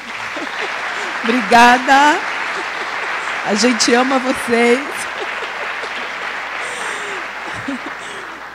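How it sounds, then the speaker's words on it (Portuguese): A church congregation applauds the media team, with clapping running under a voice, which rises over it in two short bursts of speech before the applause carries on more quietly. "se você puder aplaudir o pessoal das mídias"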